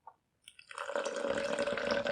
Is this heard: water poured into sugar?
yes